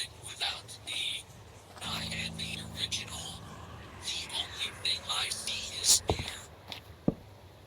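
A monster's eerie whispering in a Minecraft horror modpack, breathy hissing murmurs that come and go in short bursts, with a few soft clicks and thumps.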